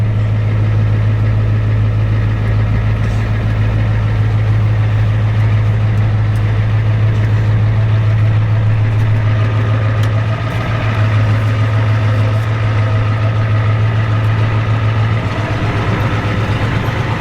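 A 1993 Ford F-250 with a 7.3 IDI diesel engine idling, a loud, steady low diesel rumble with constant clatter, close by and unbroken for the whole stretch.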